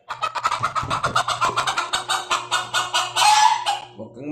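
A pet chicken at home clucks in a quick rhythmic run of close, loud clucks, ending with a sharper squawk near the end.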